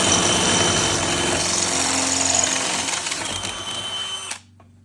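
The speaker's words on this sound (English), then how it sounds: "we come back with the 3/8 drill and ream the hole out the rest of the way" A 3/8 drill reams out a hole while fitting a quick jack release bracket on a Four Wheel Camper Hawk, a close, loud, steady whine that holds for about four seconds and then cuts off abruptly.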